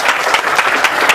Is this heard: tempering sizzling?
no